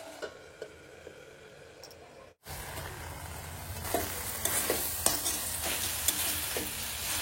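Mustard greens stirred and fried in a pan, a steady sizzle with scraping stir strokes that grows louder after a brief pause, no talking.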